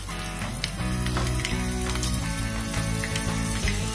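Green chili drops into hot oil already seasoned with a pinch of asafoetida and salt, producing a steady, dense sizzle that continues over faint background music.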